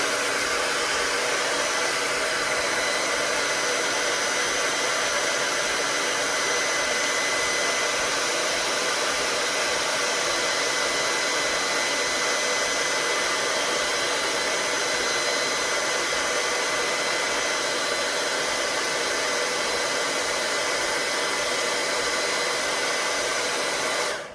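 A hair dryer blows continuously at full power, a loud, steady whooshing roar that holds unchanged from start to finish.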